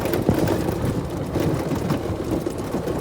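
Yamaha G8 36-volt golf cart accelerating on a rough road, a steady low motor drone mixed with rattling and rumble from the bumpy surface, fairly loud and continuous without speech.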